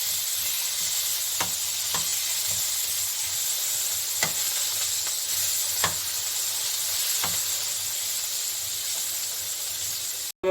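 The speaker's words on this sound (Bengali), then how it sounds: "আমি একটু বেগুনটাকে একটু ভেজে নেব।" Salted, turmeric-coated eggplant pieces fry in hot oil in a pan, giving a steady close sizzle and hiss with occasional soft clicks of a utensil, no voices, ending in a brief cut.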